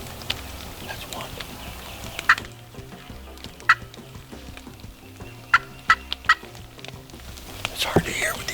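Wild turkeys gobble in the rain on an evening outing, several short, distant calls sounding at intervals above a steady patter of raindrops, with faint whispered talk underneath.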